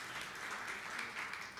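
A church congregation applauds during a worship service, a steady, dense wash of clapping from many hands that holds at an even level throughout, with no speech over it.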